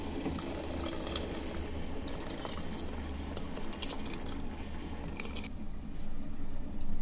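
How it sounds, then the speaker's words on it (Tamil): Seeraga samba rice is added to a pot of boiling water for Hyderabad chicken biryani, giving a soft, continuous bubbling and watery patter with light splashes and clinks, fairly quiet and close. "இப்போ இன்னொரு சைடில் நம்ம தண்ணி கொதிச்சிருச்சு, இதில் ரெடி பண்ணி வச்சுருக்கிற அந்த சீரக சம்பா ரைஸை நம்ம வடிச்சிக்கலாம்."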